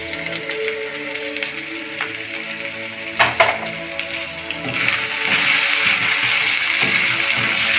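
Vegetables, onions and capsicum among them, sizzle steadily in a hot pan for an egg garlic pizza, with a couple of sharp clatters of stirring midway and the frying growing louder and denser toward the end.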